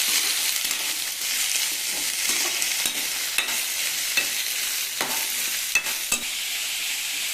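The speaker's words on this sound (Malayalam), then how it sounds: "ഇനി എല്ലാം കൂടി നന്നായിട്ടൊന്ന് സോഫ്റ്റ് ആവുന്ന വരെ വഴറ്റിയെടുക്കാം" Chutney ingredients with tamarind sauté in oil, giving a steady sizzle broken by repeated sharp scrapes and taps of a spoon stirring the pan.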